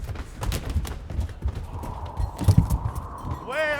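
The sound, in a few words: horse hooves clip-clopping as the master arrives on horseback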